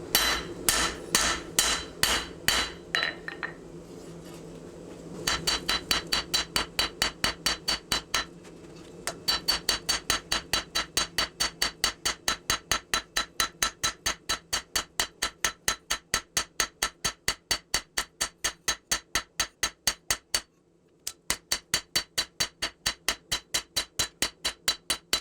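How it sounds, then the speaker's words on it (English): A hand hammer strikes a knife blade of 5160 steel, forged from a 1-inch-thick coil, to draw out a distal taper. Ringing blows fall in steady, rapid runs with short pauses between series. "All I'm doing right there is just forging in a distal from here to there before I end up forging in the bevels."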